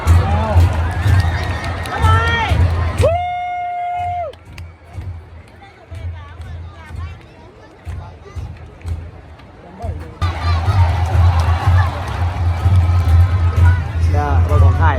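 A packed stadium crowd of Lao supporters at the SEA Games 31 sends up a steady roar of cheering and chatter, broken near the start by a brief sustained horn-like tone, with voices talking close by throughout.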